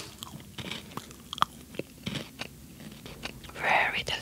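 Crunchy salted caramel chocolate bitten and chewed close up, with sharp crisp bites scattered through and a louder crunching burst near the end, amid quiet background.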